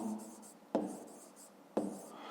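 Pen strokes scratch across paper as numbers are written by hand in a math exercise, with two sharp taps between the quiet scribbling.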